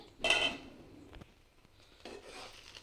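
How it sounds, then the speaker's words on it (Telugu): Spoon scraping and clinking against a pot while gongura (sorrel leaf) chutney is stirred, a bright metallic scrape at the start, a faint tap midway, then a softer second stretch of stirring, close and alone. "ఒకసారి బాగా కలుపుకోవాలి"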